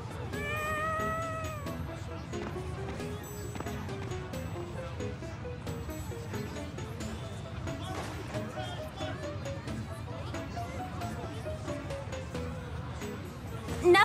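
A cat meowing in the Tales of Xillia 2 video game, several rising and falling cries near the start over busy background game sound and babble, with a voice talking through it.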